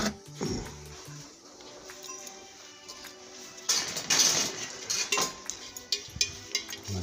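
An unglazed ceramic pot 18 cm across is tapped to sound its ring, giving faint clinking and knocking taps with a brighter clink partway through, quiet and close.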